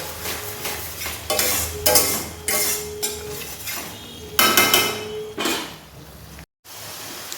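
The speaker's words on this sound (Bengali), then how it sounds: "এবার সামান্য একটু গরম জল দিয়ে দিলাম দিয়ে আবার কিছুক্ষণ একটু কষে নেবো" A spice paste for boal fish curry is sautéed in a pan with a splash of hot water, giving bursts of sizzling and hissing frying, a spoon scraping and stirring, and metal clinks close by.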